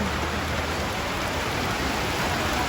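Heavy typhoon rain pours down in a dense, steady hiss, drumming on surfaces without a break.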